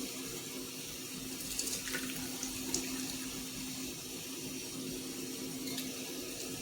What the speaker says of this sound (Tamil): கரைச்சி வச்சுருக்க புளியை ஊற்றிக்கிறேன்